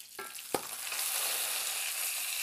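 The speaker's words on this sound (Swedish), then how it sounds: "Det är väldigt smidigt att steka fisken på skinnsidan." Salmon fillet frying skin side down in a pan gives a steady, close hiss and crackle of sizzling fat, with a couple of brief clatters near the start. No voices are heard.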